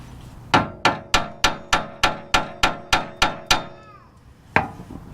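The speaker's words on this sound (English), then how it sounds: "I just have to put an impact on there." An impact wrench hammers at a rusty suspension bolt on a lifted vehicle, eleven loud, evenly spaced rattling blows close by, a brief pause, then one more hit.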